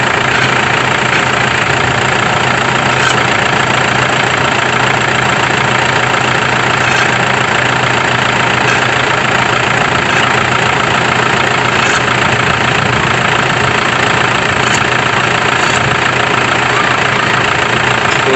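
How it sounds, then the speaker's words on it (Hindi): A Toyota Innova engine runs steadily during power steering pump repair while the steering is turned, giving a loud, continuous close-up idle drone with a faint knocking texture and no pauses throughout. "गाड़ी को स्टार्ट करो, स्टीयरिंग चलाओ।"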